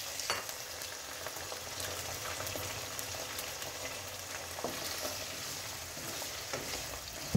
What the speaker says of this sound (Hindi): लहसुन का कलर चेंज होने के बाद हम इसमें आलू ऐड करेंगे।